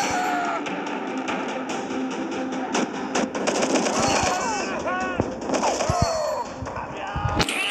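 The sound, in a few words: gunfire in a first-person shooter video game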